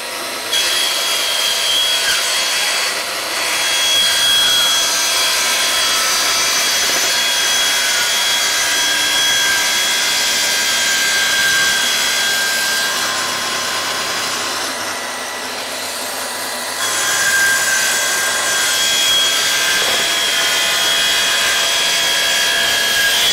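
Festool power saw with a fine blade cutting perspex sheet, a steady loud whining buzz with a brief dip midway, continuous and close without talk.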